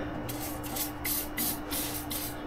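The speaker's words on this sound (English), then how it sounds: "I always use silicone spray just to get hoses started" Silicone spray hissing from an aerosol can in short repeated bursts, about five close, loud sprays with brief pauses, used while fitting hoses during brake and cooling system work on a GMC roadster.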